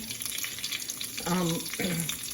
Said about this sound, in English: And next I'm gonna add the curry leaves.